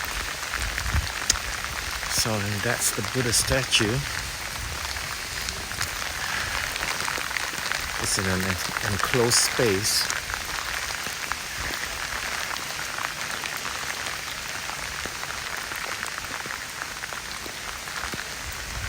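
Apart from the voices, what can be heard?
rain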